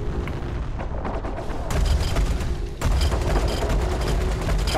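Ship weapons firing in the space game Star Citizen: a dense, continuous barrage of loud, rumbling shots with heavy low-end booms, growing stronger partway through and holding steady to the end.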